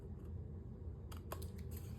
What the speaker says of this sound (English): I am going to go like this with my scissors and just follow along.